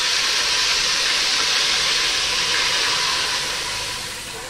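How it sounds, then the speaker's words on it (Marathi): Water hits a hot tempering (phodni) of spices and turmeric in a pan for shengole, giving a strong, steady hiss of steam and sizzling that holds loud and then slowly fades. "याच्यामध्ये फोडणीला मी पाणी टाकते."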